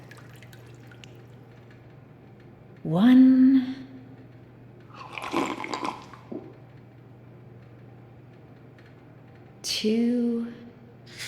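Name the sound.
sipping water in Bendy and the Dark Revival video game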